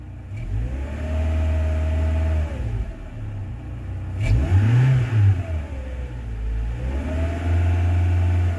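A Rover 45 car engine revs up and down several times in smooth swells, rising and falling in pitch over a steady idle, heard fairly close.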